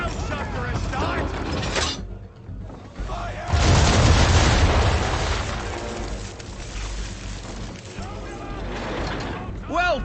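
Ship cannons fire round shot in a broadside in Assassin's Creed III, a heavy booming roar rising midway and fading into rumble, with voices heard before and after.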